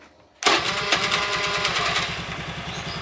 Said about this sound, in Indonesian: Langsung kita tes, kita on-kan kontak, coba kita tombol starter ya.